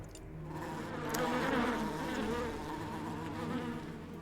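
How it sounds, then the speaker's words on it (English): Bees in the video game Book of Hours give a steady, close insect buzz that swells slightly and then holds at an even level throughout, with no talking. "We can, of course, tend the bees."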